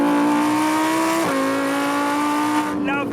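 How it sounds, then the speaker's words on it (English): A Lamborghini Huracán Performante V10 engine and exhaust howling loud and close in a sustained high-revving tone that dips briefly at a gear change, then climbs again before a sharp rise and fade at the end. "Love the sound of a V10."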